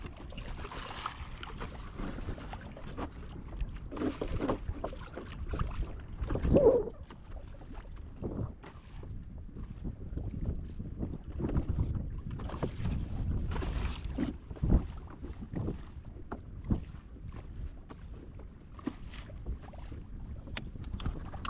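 A fishing boat drifts on the open sea during grouper fishing. Wind buffets the microphone over a steady wash of water, with occasional knocks and creaks from the hull and no speech.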